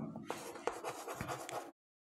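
Numbers being written during a maths lesson: close scratchy strokes of pen or chalk in short bursts that end abruptly in silence.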